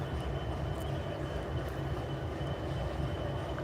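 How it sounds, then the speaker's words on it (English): Norfolk Southern locomotive 4196 idles at Ooltewah, Tennessee, a steady low diesel rumble with constant broadband hum, heard from a short distance with no break or change. "Locomotive 4196, waiting for authorization to proceed."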